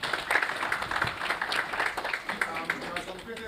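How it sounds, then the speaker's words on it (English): A conference audience claps steadily for a speaker after a debt conference talk, a dense, continuous patter of hands with a few voices mixed in throughout. "Let's give Ahmed a round of applause."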